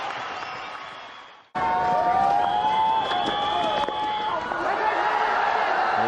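Loud stadium crowd roaring and cheering at a Pakistan versus India cricket match in the 1999 Sharjah Cup, a broad sustained wash of noise that surges after a brief lull and continues at full level.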